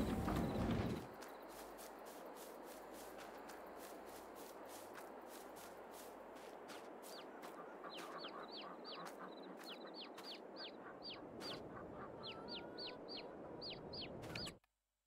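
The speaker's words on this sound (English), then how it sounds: "Just going to check on the chickens quickly" Flocks of chickens in the Farming Simulator 22 video game cluck in quick, clipped bursts over a steady ambient background hum, growing busier toward the end and then cutting off.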